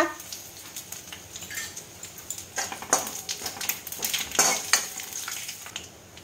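Panch phoron, radhuni seeds and two bay leaves hit hot oil in a pan for a bitter dal, a quiet crackling sizzle punctuated by scraping stirs and a few sharp clinks of a spoon on the pan.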